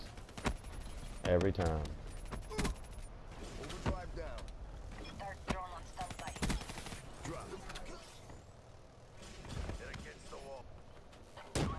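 Kuda submachine gun firing in a video game, with several sharp bursts of automatic fire scattered through the stretch, mixed with someone talking over the action.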